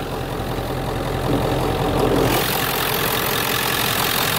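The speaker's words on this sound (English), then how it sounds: "Well, it's just got a nice smooth idle." A warm Ford Power Stroke diesel engine idles smoothly, a steady low rumble with a faint knocking rhythm, close and continuous with no talking.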